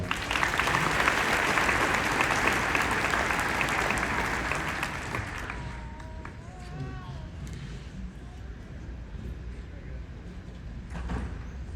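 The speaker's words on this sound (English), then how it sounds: "give him a round of applause as he comes up" At a Young Life banquet, the crowd applauds as a speaker comes up, a thick burst of clapping for about five seconds that thins out into room murmur and scattered voices.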